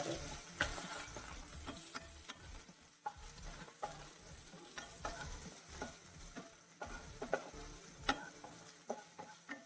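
Ginger, green chilli and curry leaves fry in hot oil in a pan, crackling and spitting close up with frequent sharp pops and a continuous sizzle.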